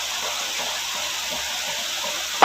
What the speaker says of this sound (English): put a small amount of water in here